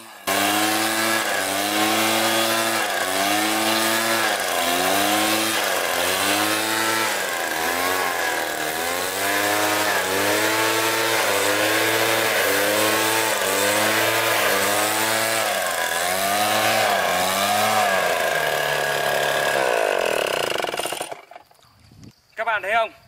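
Takyo petrol leaf blower running in a rubber plantation, its two-stroke engine droning loudly and pulsing rhythmically as the throttle is blipped, then cutting out near the end.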